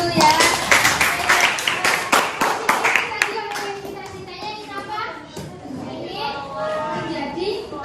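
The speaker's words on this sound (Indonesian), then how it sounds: "Mungkin tepuk tangan dulu ya." Classroom applause at a senior high school, many hands clapping in a brisk burst that fades after about three seconds, followed by children's voices chattering close by.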